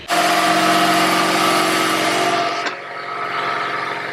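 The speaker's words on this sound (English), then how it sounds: "So it's a soundproof room that we have this huge air compressor in." A huge air compressor in a soundproof room runs with a loud, steady mechanical drone and whine, easing down slightly after a sharp click partway through.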